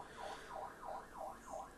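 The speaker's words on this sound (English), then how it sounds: "I think a car alarm's going off" A car alarm wails outside a window, distant and faint, its rising-and-falling siren tone cycling steadily about five times.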